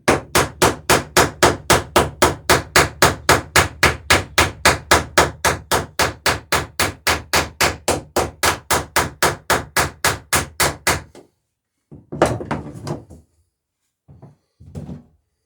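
Rivets hammered into wooden sailboat planking: a fast, even run of about forty sharp close blows for eleven seconds, then a few scattered knocks and handling sounds.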